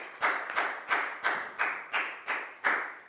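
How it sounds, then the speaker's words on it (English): Seven evenly spaced, fairly faint claps in a steady rhythm, a Year 4 maths class applauding a student together in a classroom. "a big round of applause for Prao"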